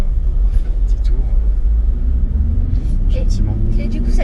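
An Aston Martin Vantage V8 drives slowly on a wet road, its deep low engine rumble steady and close inside the cabin, with people talking over it.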